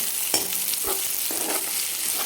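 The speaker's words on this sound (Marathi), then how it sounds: "आता याच्यामध्ये जो आपण कांदा कापून घेतला होता बारीक तो टाकून घेऊ आणि याला पण चांगला सोनेरी कलरवर आपल्याला भाजून घ्यायचं" Chopped onion frying in a roasted spice paste, sizzling steadily with a few stirring scrapes; close and continuous, with no talk.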